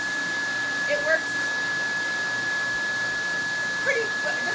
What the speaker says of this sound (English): I'll back the dryer off and just kind of let it gently blow on